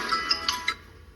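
A phone ringtone chimes in a short run of three or four bright, evenly spaced electronic tones before stopping, with no talk over it.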